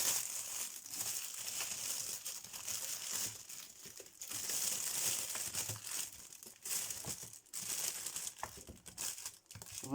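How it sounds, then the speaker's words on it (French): Plastic packaging is unwrapped up close, giving continuous crinkling and crackling with occasional sharper tearing rustles, fairly quiet and without talk. "j'aurais dû déballer ça avant"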